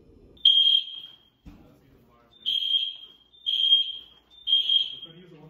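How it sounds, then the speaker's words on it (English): A fire alarm, set off by someone smoking in their room, sounds in four sharp, high-pitched beeps separated by pauses, with faint talking in the gaps. "The fire alarm went off because someone was smoking in their room."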